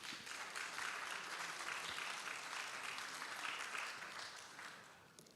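An audience at an international university conference on climate change resilience claps steadily and densely for about five seconds, the applause tapering slightly toward the end.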